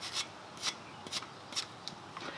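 Rust being scrubbed off the flat surface of a 2015 Toyota Highlander front brake caliper bracket, a series of short rasping strokes in an uneven rhythm, close up and fairly quiet.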